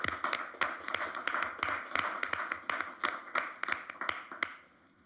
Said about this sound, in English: Let's give Barbara and her team a round of applause.